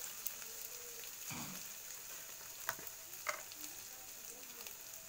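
Spice masala seasoned with salt and turmeric sautés in a pan, a faint, steady sizzle broken by a few soft stirring knocks.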